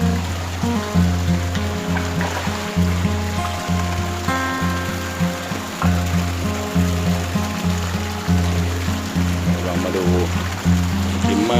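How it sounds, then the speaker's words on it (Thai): Water from a pond surface flowing into a surface skimmer, a continuous close trickling and splashing with a regular pulsing rhythm, no talk. "หน้าน้ำไหลเข้าได้เป็นอย่างดีนะครับ"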